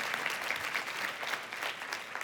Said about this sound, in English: Can we give a round of applause for Mark?